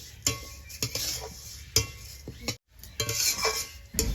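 Mung dal dry-fried in a pan rattles and scrapes under repeated stirring, with close spoon clinks against the metal and a faint sizzle, pausing briefly before stirring resumes.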